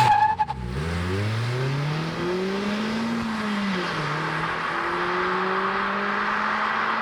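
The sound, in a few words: sports car launching from standstill, engine revving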